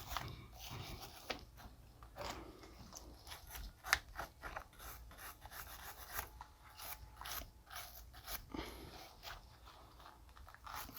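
Light scrubbing on a battery terminal gives a series of short, faint scratchy strokes in an irregular rhythm, close by and otherwise quiet.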